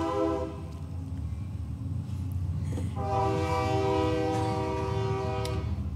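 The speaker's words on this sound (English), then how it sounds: "and I'll wait for the train." A passing train sounds its loud horn in long sustained blasts, with rumbling railcars underneath, heard outside a city council meeting.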